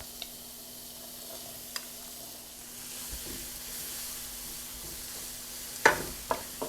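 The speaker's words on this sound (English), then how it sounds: "I want to stir to make sure that all that cauliflower is coated in the butter" Cauliflower rice with minced garlic cooking in butter in a pan, stirred as it goes: a quiet, steady sizzle with scattered utensil scrapes and a few louder clatters near the end.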